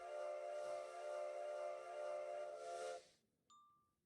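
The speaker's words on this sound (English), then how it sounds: "Every time it goes past the base, it just toots its whistle" A vehicle whistle in a video game blows one long steady toot for about three seconds, loud and shrill with a hissing steam edge, then cuts off, followed by a short faint ding.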